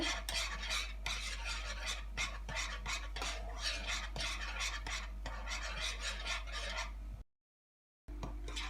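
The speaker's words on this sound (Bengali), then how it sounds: "এটাকে এভাবে নাড়তে হবে একদম এরকম কমে রেখে নাড়তে হবে" Egg barfi mixture being stirred in a pan over low heat, a repeated scraping and tapping of a utensil against the pan over a low steady hum, cutting out briefly near the end.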